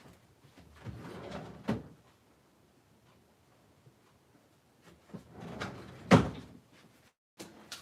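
Drawer sliding open and shut in a home craft room, a few separate wooden thumps and rumbles spread over several seconds with quiet gaps between, fairly close.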